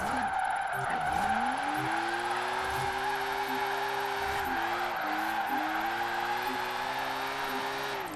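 A car drifts in the video game Forza Horizon 4, its tires squealing in a long, continuous wavering whine over a steady engine drone, with no talk.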